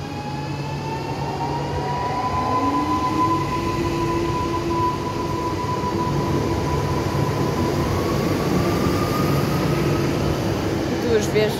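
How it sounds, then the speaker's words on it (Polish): A Stadler Flirt unit running as an ŁKA Sprinter service, in double traction, rolls into Warszawa Gdańska station with a steady loud rumble and rising whine throughout, while a voice talks over it. "wjeżdża ŁKA Sprinter do Warszawy Gdańskiej, prowadzony Flirtem"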